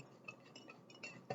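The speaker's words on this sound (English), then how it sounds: "And use that spoon to mix it around." A spoon stirs a small amount of solid into liquid in a glass during an acids-and-bases demonstration, making faint, scattered clinks against the glass, with a slightly louder tap at the end.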